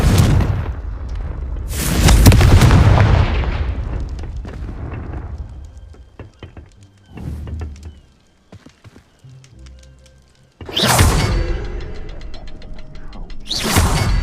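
Confringo fire-spell blasts in the Hogwarts Legacy video game: loud, booming explosions burst out at intervals, with quieter mechanical clicks and rumbles in between.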